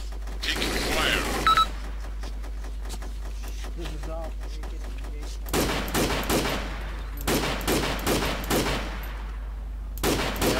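Bursts of video game gunfire crackle in rapid volleys, several short clusters of sharp reports over a steady low hum, with voices talking beneath them.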